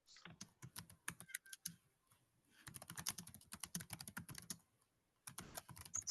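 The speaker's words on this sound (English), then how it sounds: "Somebody's typing." Rapid, irregular clicking of keys on a computer keyboard, close and fairly quiet, coming in bursts with a short pause in the middle and no voices.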